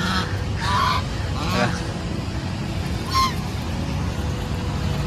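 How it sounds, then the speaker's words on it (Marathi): A flock of ducks heading into water honks and quacks in short bursts outdoors in Nashik, spread across a few seconds over a steady background rumble. "हा पूर्ण बदकांचा कळप आहे आणि आता पाण्यात प्रस्थान घेणार आहे"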